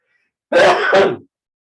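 A single close, loud sneeze on a Zoom meeting, a sharp two-part burst lasting under a second, set against otherwise silent surroundings.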